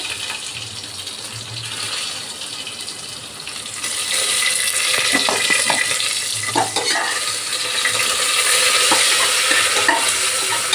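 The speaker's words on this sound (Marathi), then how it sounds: "हलवून घेऊया थोडंसं" Onion, tomato, cinnamon, bay leaf and curry leaves fry in a hot pan, a steady bright sizzle that grows louder midway, with the scrape and clack of a spoon stirring, close and without talk.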